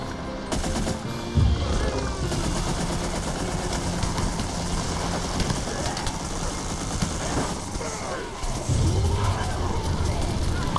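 Rapid bursts of gunfire from the Plants vs Zombies 2 3D shooter video game fire almost continuously, dense and loud, with a low rumbling engine-like drone underneath.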